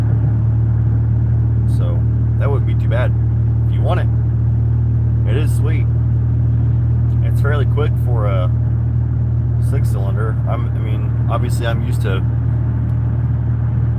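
A street car's engine rumbles at a steady idle, a constant deep drone that holds beneath someone talking close by.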